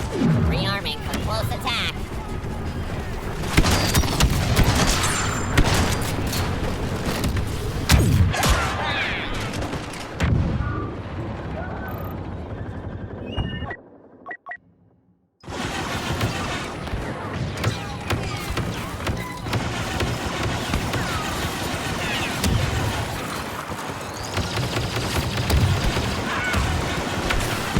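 Star Wars Battlefront II battle with dense gunfire and booming blasts, including grenade explosions, loud and continuous apart from a brief silent gap, with a radio-style voice speaking over the chaos.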